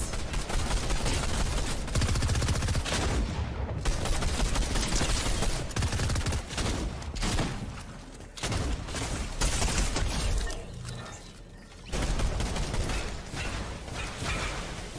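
Dense Fortnite gunfire, rapid automatic bursts and rattling shots that fill most of the stretch, loud and close, broken by a few brief pauses before the firing resumes.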